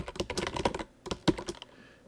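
Rapid clicks of keys being typed on a computer keyboard, close by, in an uneven burst with a short pause partway through.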